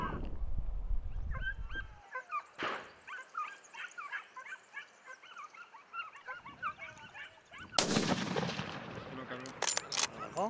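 Hunting dogs bark and yelp excitedly during a Spanish montería hunt while a single sharp rifle shot cracks out, then more barking and rustling follow.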